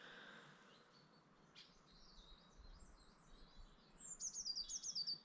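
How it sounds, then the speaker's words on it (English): Birds chirp and tweet in a quiet, misty outdoor setting around an abandoned chapel in wild Scottish landscape, faint at first, then a quick run of closer, rhythmic chirps toward the end. "And you just hear all those birds tweeting."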